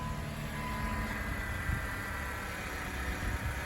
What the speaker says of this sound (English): It makes its normal noise for being a power steering pump